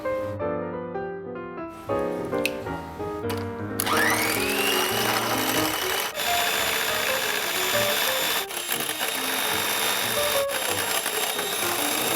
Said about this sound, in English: then with a hand mixer, going to make them all light and fluffy until about stiff peaks